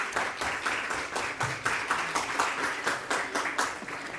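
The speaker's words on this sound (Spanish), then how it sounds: "nos vamos a dar un fuerte aplauso tanto a los panelistas como a ustedes" An audience claps at an academic citizens' forum on elites and wealth concentration, giving steady, rhythmic applause that fills the room at moderate volume, with no talking over it.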